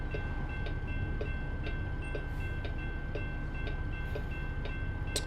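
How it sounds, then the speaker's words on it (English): A train rolls past in the American Truck Simulator game, a steady low rumble with rhythmic clacking and a faint high tone held throughout, no voices. "I was gonna say we were expecting a train."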